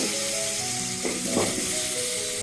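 Bay leaves and sweet cumin seeds sizzle steadily in hot oil, a continuous close frying hiss with a couple of brief louder crackling swells partway through.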